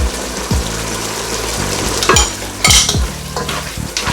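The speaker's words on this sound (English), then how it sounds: "So I'm going to allow this to cook" Fish for a Ghanaian okra stew sizzles and cooks in a pot, with a close, steady frying hiss and several scraping stirring strokes from a utensil against the pot.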